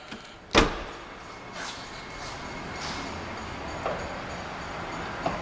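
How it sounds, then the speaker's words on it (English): A black 2008 Cadillac Escalade ESV door shuts with one sharp, close thud, followed by soft mechanical whirs as the power running boards retract, with a few faint clicks and no talking. "And then once you close it, it's going to retract."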